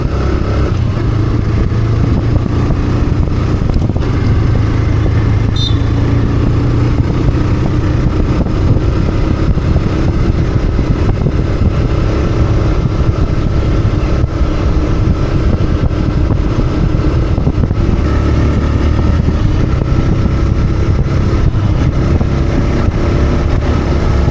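A TVS Raider 125 motorcycle cruises in power mode around 5000 RPM, its engine droning loud and steady throughout with constant wind and road rush, no voices over it.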